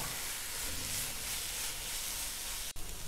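Ginger garlic paste sizzles in a pan for Kerala-style egg masala, a steady close frying hiss that holds for a few seconds with a brief dip near the end.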